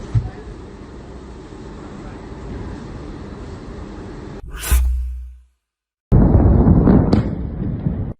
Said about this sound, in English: A strong explosion and fire occurred in the Iranian port city of Bandar Abbas on Saturday